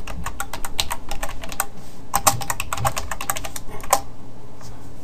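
Command being typed on a computer keyboard in a Linux terminal, rapid close key clicks in quick bursts with brief pauses between groups.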